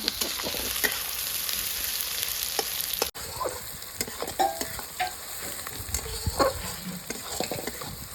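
Onions fry in a pan for Bihari chicken, giving a steady loud sizzle close by with frequent scraping stirs. Midway the sound briefly cuts out and resumes, with sharper clinks and stirs, and no one speaks.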